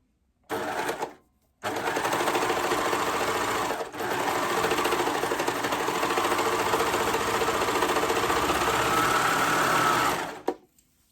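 A home sewing machine runs a cuff seam on a Love Notions Rockford Raglan top, a short burst followed after a brief pause by a long steady whirring run of stitching, close and loud, which stops abruptly.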